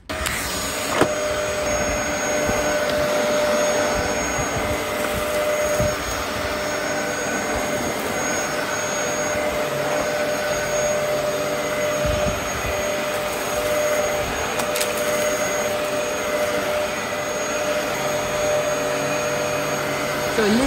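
A vacuum cleaner fitted with a new motor runs steadily, a loud, constant high-pitched whine and rushing airflow that holds nearly unchanged throughout.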